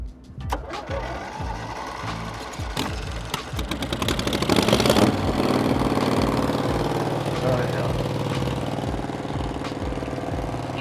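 A small RV generator engine fires up and settles into a steady, loud mechanical idle that runs continuously, with a person speaking over it.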